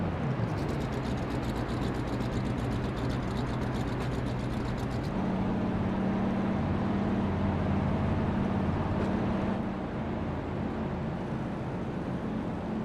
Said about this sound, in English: You can hear the engine sound, just how mean that sounds.